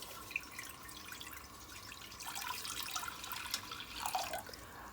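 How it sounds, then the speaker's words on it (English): Water pours steadily into a cooking pot for ramen, a continuous splashing trickle that brightens and rises toward the end. "So guys, I'll start by pouring in water."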